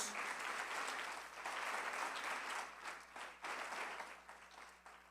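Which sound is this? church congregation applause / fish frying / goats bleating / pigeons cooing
church congregation applause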